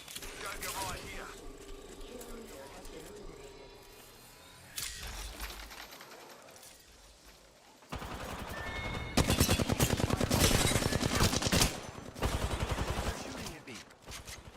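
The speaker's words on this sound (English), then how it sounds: "Shooting at me." Rapid bursts of video-game gunfire from enemies shooting at the player, clattering in loud volleys that grow denser and heavier toward the end, with quieter stretches between and a voice speaking over parts.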